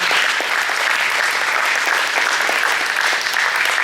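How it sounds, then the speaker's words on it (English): A school post-prom crowd applauding the participants of a hypnosis show, a steady, loud wash of clapping from many hands throughout with no break. "So if you would please give your friends one more round of applause."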